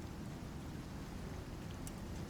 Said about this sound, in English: raining in here? It's kinda weird.